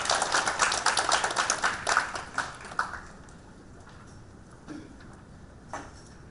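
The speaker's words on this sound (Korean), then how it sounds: "여러분 큰 박수로 맞이해 주시기 바랍니다" An audience at a youth education forum claps to welcome a speaker, dense applause for about two seconds that thins into scattered claps and fades away.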